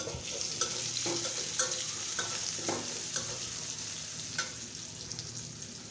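Onions frying in oil in a pan, a busy close sizzle under repeated soft knocks and scrapes of a spatula stirring at an irregular rhythm.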